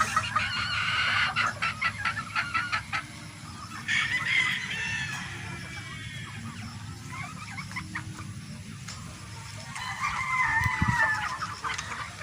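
Newly arrived game farm hens clucking busily while roosters crow repeatedly nearby, a lively poultry chorus with layered calls and no speech.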